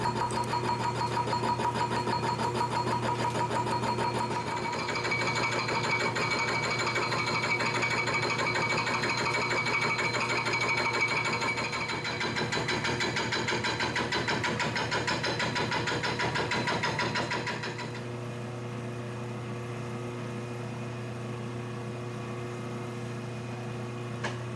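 A machine skims the rusty surface of a metal part for a bench grinder tool rest, a steady whirring mechanical hum with a rapid rhythmic clatter, loud and continuous, then easing to a quieter running tone near the end.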